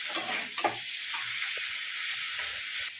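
Vegetables, tomatoes and spices sizzle steadily in a hot pan for khichuri, with a few clinks and scrapes of a spoon stirring, no voices.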